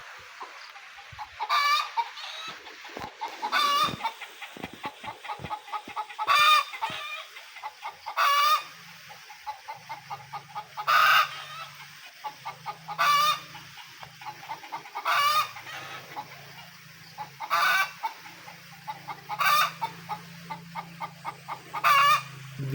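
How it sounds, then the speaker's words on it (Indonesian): A hen clucks after laying an egg, repeated loud bursts in a rhythmic cackling series with short pauses, fairly close, in a remote village, with a low hum running underneath. "Saya yakin itu ayam habis bertelur"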